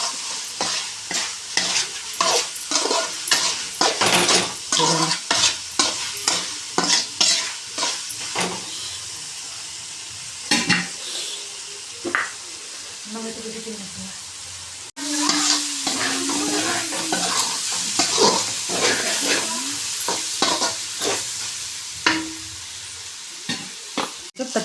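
Spicy bachelor-style chicken fries in a pan while a spoon stirs it. Steady sizzling runs under repeated scraping strokes throughout, with no talking.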